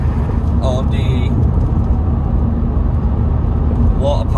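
Vauxhall Zafira GSI stage 2 with a turbo, an oil leak and a water pipe leak drones steadily and loudly throughout, a constant low engine and road rumble with brief higher squeaks near the start and end.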